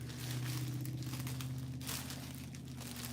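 Scissors drawn along a ribbon to curl it give a faint crinkling, scraping rustle over a steady low background hum, continuous for about three seconds.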